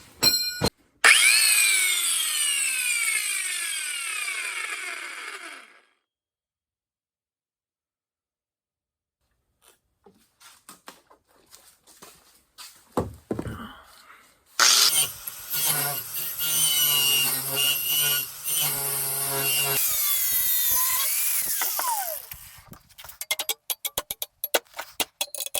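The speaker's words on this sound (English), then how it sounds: "I'm going to need to cut it on the top like this with the grinder" A grinder cuts into a homemade knife blade in bursts of harsh abrasive grinding with a whining motor that winds down, separated by long stretches of near silence and a few scrapes.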